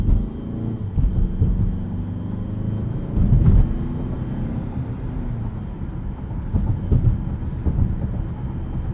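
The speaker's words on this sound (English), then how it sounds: "There's just a lot of injector noise, I find, for some reason." A 2019 Mazda CX-5 Signature turbo engine idles and rumbles low and steady, with a faint ticking layer of fuel injector noise riding on top and a few brief louder swells.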